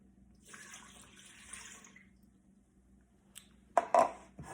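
Water is poured into a bowl with sourdough starter, a soft steady trickle for about two seconds, followed by a few louder clinks and splashes near the end.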